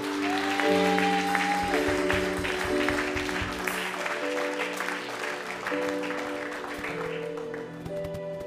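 A church congregation applauds and cheers for Jesus during a morning service, a dense, sustained roar of clapping with sustained musical tones beneath, loud and full throughout.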